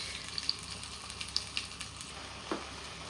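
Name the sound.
mutton frying with spices in a clay pot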